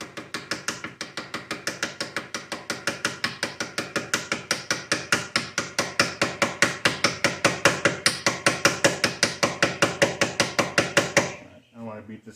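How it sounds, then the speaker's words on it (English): A hammer taps a part into the steering column of a 1959 Ford F100 in a workshop, delivering a long, steady run of sharp metallic blows at a quick, even rhythm, loud and close, before stopping abruptly. "I don't want to beat this up too bad, so I'll go grab a softer hammer."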